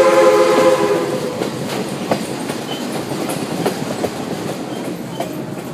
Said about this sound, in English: what do you think of the train ride?